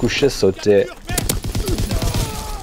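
Lewis machine gun fired in the Call of Duty WW2 video game: after a moment of someone talking, a loud, rapid stream of close gunshots rattles on for over a second.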